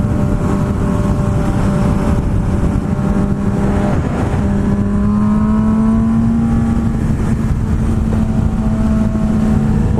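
A car engine revs in neutral while driving near San Clemente, a loud continuous drone rising in pitch and holding steady under road noise for the whole stretch.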